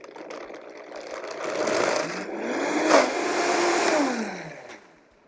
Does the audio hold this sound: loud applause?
no